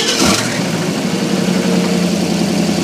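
A 350 engine cranks and catches with a brief burst at the start, then settles into a steady, loud, rumbling idle close by, with no one talking.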